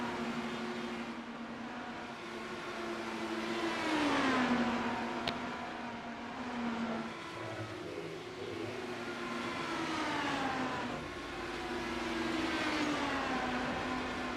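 Formula College race cars on a racetrack, their high-pitched engines droning and sweeping in pitch as they pass, several overlapping cars, steady and fairly loud throughout.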